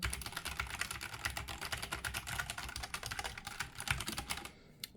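Rapid, dense clicking of keys on an Epomaker Ajazz AK820 Pro 75% mechanical keyboard with Flying Fish switches, close and continuous, stopping abruptly just before the end.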